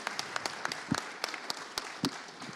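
An audience claps in a brisk, scattered round of applause, individual hand claps standing out over a fairly light crowd.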